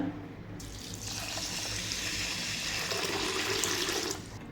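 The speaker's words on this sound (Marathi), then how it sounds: "पाणी घालून घेऊया" Water pours steadily from a tap into a pressure cooker holding soaked rice for soybean pulao, a continuous splashing rush lasting several seconds.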